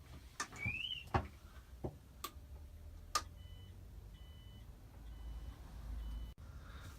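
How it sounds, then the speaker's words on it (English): Van security alarm giving a series of short electronic beeps while being unset, interspersed with clicks and knocks, fairly close with a low rumble underneath. "I'm going to quickly unset the alarm."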